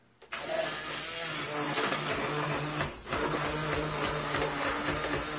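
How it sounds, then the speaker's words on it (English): A blender motor starts abruptly and runs steadily at high speed pureeing corn and pumpkin soup, a loud continuous whine with a brief dip in the middle. "So now we're going to put the blender to it."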